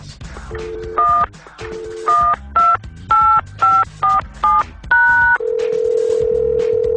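Telephone keypad dialing tones at the start of a fan voicemail: a run of short, loud touch-tone beeps in uneven rhythm, then a steady continuous tone, with no talking.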